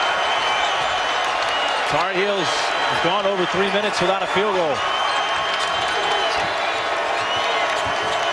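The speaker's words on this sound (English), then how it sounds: "Now this Louisville crowd trying to get their team to get a stop." A Louisville basketball arena crowd roars steadily during a game against North Carolina, urging a defensive stop, with sneaker squeaks and a commentator talking over the constant cheering.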